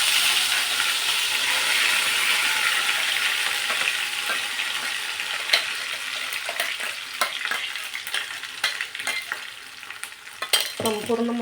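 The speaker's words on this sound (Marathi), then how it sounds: "संपूर्ण मसाला टाकून घ्यायचा आणि व्यवस्थित परतून घ्यायचा आहे." Ground tomato masala sautés in hot oil in a pan for dhaba-style dum aloo made with small potatoes, a steady sizzle with frequent scraping stir strokes and clinks growing busier toward the end, no voices.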